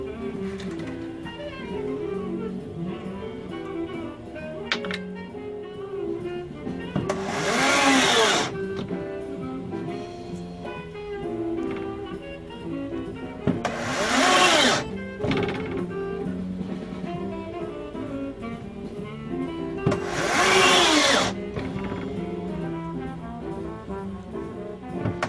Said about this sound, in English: I just saw this piece in half, and I think I had to saw through a bolt.